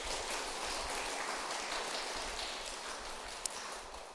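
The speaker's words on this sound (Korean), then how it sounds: "일단 박수 한번 치고 갑시다." Steady, dense clapping from a temple congregation at a Buddhist dharma talk, filling the space evenly for about four seconds with no talking over it.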